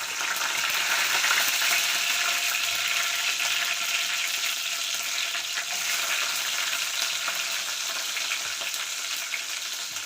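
Mustard seeds, cumin and curry leaves fry in hot oil, giving a steady, dense crackling sizzle close up throughout, with no voices.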